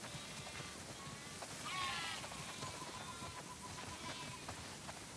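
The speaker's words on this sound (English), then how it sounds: "Wow, that's a lot of sheep." A flock of sheep bleats in a cutscene from the video game The Last of Us Part II, with faint, distant calls in a farm setting under a constant hiss like steady rain.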